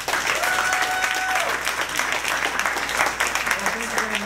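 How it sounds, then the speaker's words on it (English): An audience at the North Andover Senior Center applauds a visiting United States senator, dense and sustained clapping close by, with a few voices and a faint tone mixed in. "So let's give him a big round of applause."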